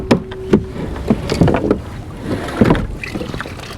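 A small kayak noses into a rocky jetty, with several hollow knocks and bumps against the hull amid water sloshing and light wind, close up and without voices.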